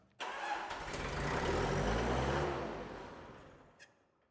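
A 1995 Gehl skid steer diesel engine cranks and catches, running loud and rough for a few seconds after an injection pump adjustment, then tapers off, with no talk.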